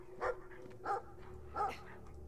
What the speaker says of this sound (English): Oh, creepy dog.